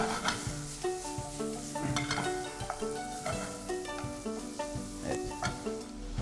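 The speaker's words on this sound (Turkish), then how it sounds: "Sen de sebzelerimizi soteliyorsun." Vegetables sautéed in a hot pan sizzle steadily while a utensil stirs and scrapes them in repeated, clattering strokes, close and fairly loud throughout.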